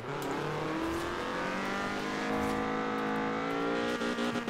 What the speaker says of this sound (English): It's the Toyota Corolla SR5. I'll quickly show it in free roam.